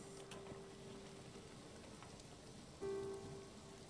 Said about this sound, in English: Oh, and it's even raining.